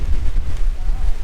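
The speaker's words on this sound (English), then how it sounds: "the wind is not giving up" Strong, gusting wind at a lakeside backcountry canoe campsite at sunset, a loud continuous rush buffeting the microphone close up.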